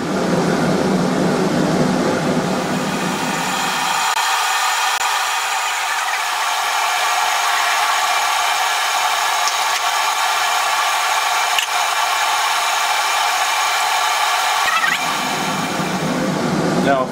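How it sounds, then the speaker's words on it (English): A blacksmith's forge blower roars steadily at close range, a loud continuous rush of air that keeps going without a break throughout. "Turning the blower up now."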